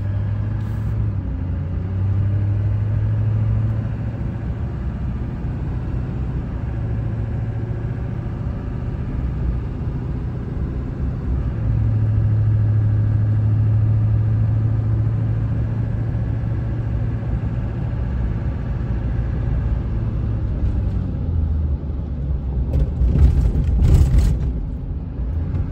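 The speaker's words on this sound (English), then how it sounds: "So truck is actually running really good right now." A 2002 Chevy Silverado 2500HD with the LB7 Duramax diesel and about 200k miles runs at a steady idle, a continuous low rumble that swells slightly midway before a brief clatter near the end.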